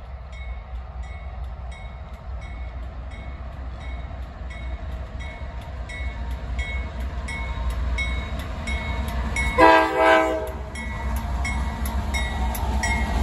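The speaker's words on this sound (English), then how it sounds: "we got another CSX train down the line" A CSX freight train rumbles steadily past at night with rhythmic wheel clatter, and a loud horn blast cuts in briefly partway through, near the Depew Amtrak station.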